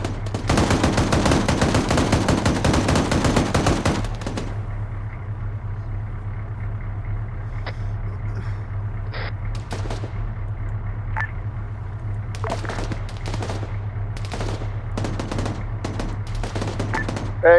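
Gunfire during a tactical operation opens with a dense burst of rapid automatic shots for about four seconds, then scattered single shots and short bursts over a constant low engine hum.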